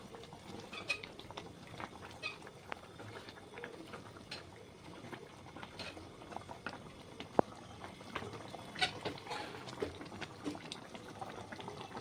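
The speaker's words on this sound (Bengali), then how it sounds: "এই ঝোলটা টকবক করে ফুটছে" Eggplant curry broth bubbling in a pot, soft continuous popping and gurgling at low level, close by.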